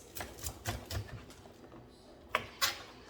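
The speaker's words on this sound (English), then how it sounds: "I'm going to cut the asparagus" A knife chops through asparagus on a cutting board in a few sharp, distinct knocks, several in quick succession, then a pause and two more, close and fairly quiet.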